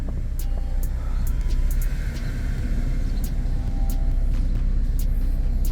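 Car rolling in gear just after a transmission replacement, a loud steady rumble of engine and road noise close by, with faint intermittent clicks over it.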